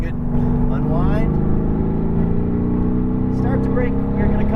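Mercedes AMG GT R engine pulling hard on a racetrack, a loud, steady rising drone from inside the car, with an instructor's voice talking over it.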